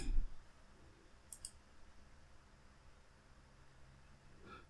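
A computer mouse clicks faintly a couple of times, one sharp tick partway through and another at the end, over a quiet background hiss.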